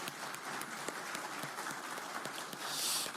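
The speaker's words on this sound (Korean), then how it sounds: "고생하신 이재명 대통령께 큰 박수를 부탁드립니다" A crowd at a Korean political gathering claps for President Lee Jae-myung, giving a continuous, even roar of applause that swells slightly near the end.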